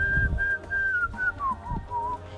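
A person whistles a short wavering tune, fairly close and alone, the notes sliding downward across a couple of seconds while digging out weeds with a hoe, with soft thuds underneath.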